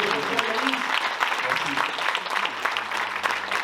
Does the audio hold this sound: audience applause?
yes